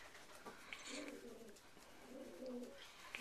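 Pigeons kept by a breeder cooing in soft repeated phrases, two rounds of low throaty coos with faint rustling and distant ambience, fairly quiet and without speech.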